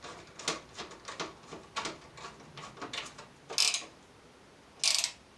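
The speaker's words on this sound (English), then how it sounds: "We're going to screw in the sound card because that one's over here." Screwdriver turning a screw to fasten a sound card into a beige PC case, a series of ratcheting, gritty scraping turns up close, followed by two sharper, louder squeaky bursts.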